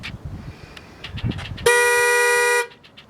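A car's horn sounds one sustained, loud, bright honk of nearly a second, close by, preceded and followed by low background rumble and faint movement.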